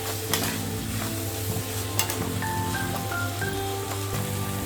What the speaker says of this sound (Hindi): ये डाल के अच्छी तरह मिक्स करना है।